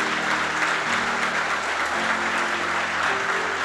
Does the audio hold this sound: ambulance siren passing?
no